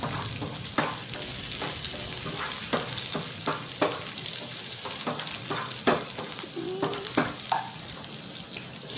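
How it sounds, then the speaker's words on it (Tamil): Dried red chillies fry with the other mint chutney ingredients in a pan, giving a continuous sizzle broken by repeated sharp spatula scrapes and stirring clatter at an uneven rhythm, close and fairly loud, with no speech. "எல்லாத்தையும் சேர்த்து நல்லா ஃப்ரை பண்ணணும்"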